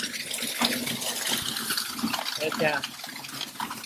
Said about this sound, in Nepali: के हो पानी माथि तल बगेछ